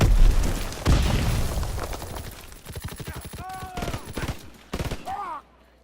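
Call of Duty: WWII gunfire sounds as sharp, fairly close shots in a quick rattling burst and scattered single reports, with game effects and a faint voice underneath.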